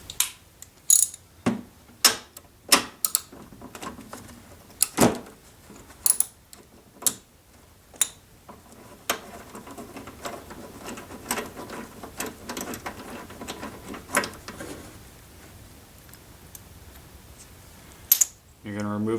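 A 3/4 inch socket ratchet works a spark plug loose on a Toro CCR Powerlite snowblower, giving sharp irregular clicks and metallic knocks over about twenty seconds, close and fairly quiet with handling noise between them.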